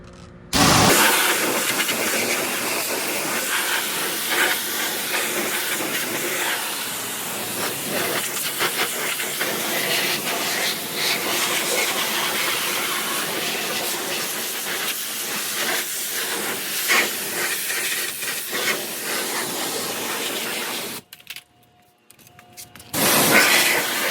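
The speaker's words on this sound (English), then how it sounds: "we're gonna take my other best friend, which is a high power pressure washer, and we're gonna go to work here" A high-power pressure washer sprays the aluminum parts of a 2015 Toyota Tundra TRD Pro, a loud, steady, close hiss of water jet that runs almost continuously and cuts out briefly near the end.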